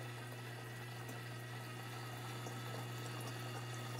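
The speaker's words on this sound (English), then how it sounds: "So you can see the water starting to come back." Water flows back through a water-saver prototype with a steady rushing hiss over a constant low pump hum, continuous and fairly loud, with no voices.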